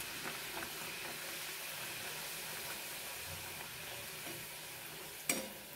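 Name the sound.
kachori frying in oil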